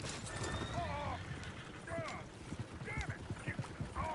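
Horses in Red Dead Redemption 2 whinny and neigh repeatedly, about five sharp calls, over a busy clatter of hooves at close range, with a voice also heard.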